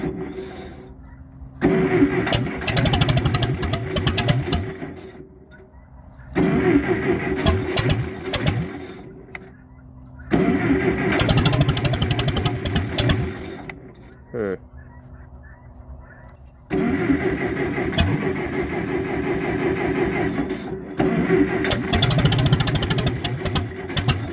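Case 440 engine running as its throttle is adjusted, a loud rough chugging drone in repeated bursts separated by brief quieter dips, with no talk.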